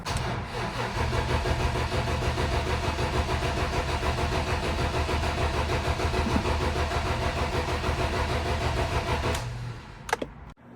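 An old BMW E30, sitting unused for ten years, cranks steadily and loudly on its starter for about nine seconds in a continuous rhythmic churn, then stops with a couple of faint clicks.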